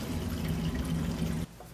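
Cleaning solution and water are poured into an ultrasonic cleaner as a continuous close liquid pour, which stops abruptly after about one and a half seconds.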